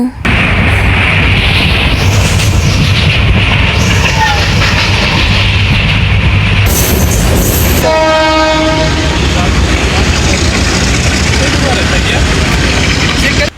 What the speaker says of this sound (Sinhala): මං හරිම ආසයි ට්‍රේන් එකේ යන්න